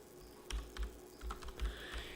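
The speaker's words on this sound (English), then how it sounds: "I'm just typing in." Typing on a computer keyboard, a run of uneven key clicks and thumps close by over a low steady hum, with no voices.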